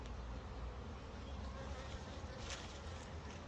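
Honey bees from hybrid-breed package colonies droning steadily around a hive with added super, a dense continuous buzz filling the whole stretch at fairly low level with no voices.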